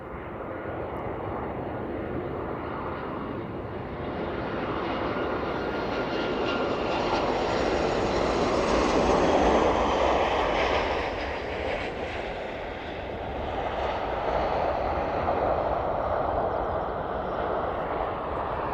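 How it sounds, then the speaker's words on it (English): A Ryanair jet arriving from Malaga on final approach to East Midlands Airport, a steady loud engine roar and rushing air that builds toward the middle and holds as it passes close by, with no talk. "And the Ryanair service in from Malaga this afternoon. Our final approach into East Midlands now."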